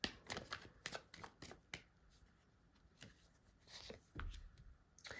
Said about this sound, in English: let's shuffle some more, get a couple more cards.